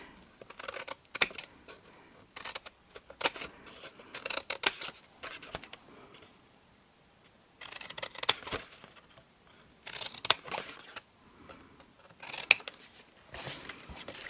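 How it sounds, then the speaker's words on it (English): Large scissors snip through card in several short bursts of rapid cutting, separated by quiet pauses, close to the listener. "And with the world's largest scissors, repeat exactly the same on the lid."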